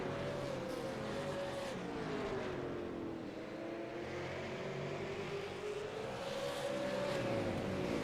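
Race cars lapping a short oval track, engines howling in a steady, continuous drone that rises and falls as the pack circles, loud and close throughout.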